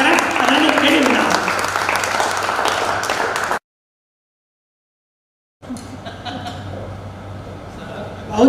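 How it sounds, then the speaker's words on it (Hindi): At a Hindi poetry gathering an audience applauds, dense clapping with a few chuckles mixed in, then a sudden cut to silence before quieter clapping and room noise resume. "आपकी तालियां उठे"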